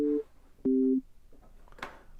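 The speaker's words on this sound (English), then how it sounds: "I'll just drag an operator in there, so we got a really nice, basic, simple sine wave." Plain sine tone from Ableton's Operator synth with a short release, played as two brief, steady, pure notes separated by a short pause, followed by faint clicks.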